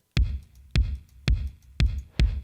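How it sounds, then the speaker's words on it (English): An 80s-style kick drum preset run through a UAD Nonlinear 2 gated reverb hits five times at an even pace, each boomy thump followed by a gritty, clipped reverb tail, with no other sounds. "I've got my 80s kick preset that I made using the Nonlinear 2 program, and it sounds like this."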